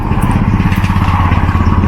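A motorcycle engine idles loudly and close by, with a steady low rumbling putter throughout.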